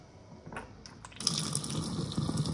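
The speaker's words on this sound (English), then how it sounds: "Instant hot water." An instant hot water tap in a house runs, starting with faint drips and splashes before a steady, close gush of water pours out and fills a sink.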